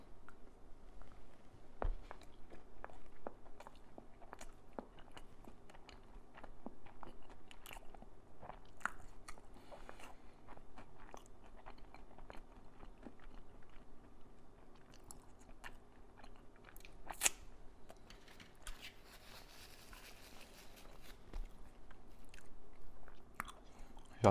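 Sushi rolls with unagi sauce chewed close to the mic, a long stretch of soft wet bites and crunchy mastication clicks at an irregular pace, quiet and without talk.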